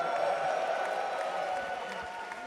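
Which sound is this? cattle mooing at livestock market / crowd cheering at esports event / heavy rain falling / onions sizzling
crowd cheering at esports event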